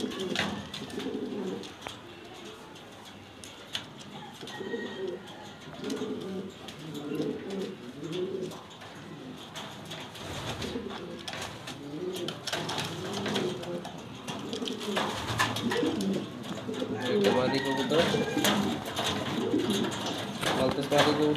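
Steady low cooing from a female Maltese pigeon runs throughout, close and continuous, with other birds chirping faintly, intermittent rustling and knocks, and a brief drop in sound partway through.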